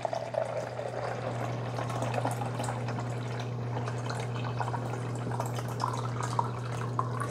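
Tap water poured from a carafe into the reservoir of a Cuisinart 4-cup DCC-450BK coffee maker, a continuous splashing, trickling flow under a steady low hum, close and moderately loud with no talking.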